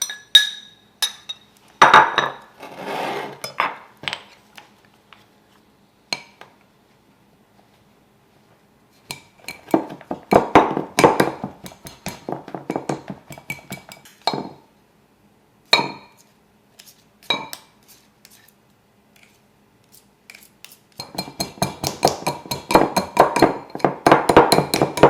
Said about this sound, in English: We're going to go ahead and blend that in here with the baking mix.